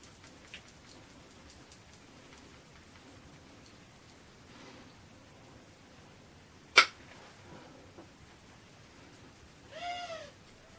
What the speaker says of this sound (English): Sorry if you can hear birds, my windows are open.